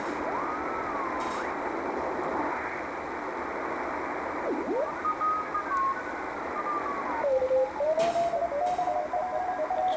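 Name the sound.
Morse code CW tones on radio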